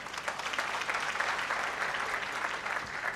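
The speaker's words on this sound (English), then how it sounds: "A round of applause for our chair." Applause from the audience at a college commencement ceremony, honoring the chair: a dense, steady wash of many hands clapping that holds at an even level throughout.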